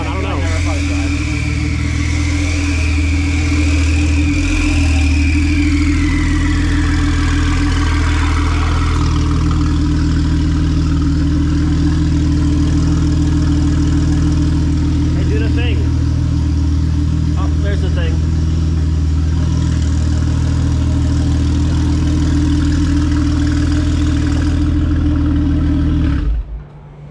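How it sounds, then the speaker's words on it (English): A Volkswagen Jetta Wagon engine idles steadily and loudly for the whole stretch, a constant low rumble with a high whine early on and a few faint voices, cutting off at the end. "I think I've never heard Scott's car run before"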